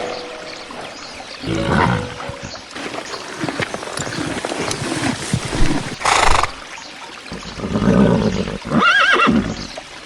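A horse neighs and whinnies in several loud, separate bursts, with quieter rustling and movement in the gaps between the calls.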